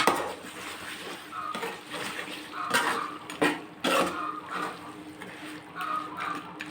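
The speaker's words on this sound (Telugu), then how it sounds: "ఇప్పుడు మూత వేసి ఒకసారి చికెన్ని కలుపుకుందాము." Country chicken for a natu kodi pulusu curry being stirred in a pot, with irregular metallic clinks and scrapes of a utensil against the vessel over a low kitchen hiss.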